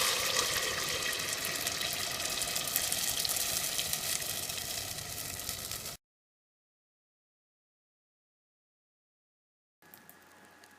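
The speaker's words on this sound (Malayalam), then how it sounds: "ഇതിനെ ചൂടായ കുക്കറിലോട്ട് ഒഴിച്ചു കൊടുക്കാം." Kalathappam batter is poured into a hot pressure cooker, giving a hissing, sizzling pour for about six seconds. Then it falls abruptly silent, and a faint sound returns briefly at the end.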